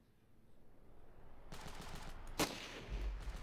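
Gunfire from the video game Ravenfield breaks out after a quiet start, with rapid automatic bursts and one sharp loud crack, followed by a heavy low thud near the end.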